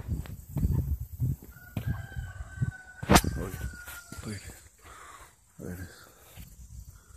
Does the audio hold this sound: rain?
no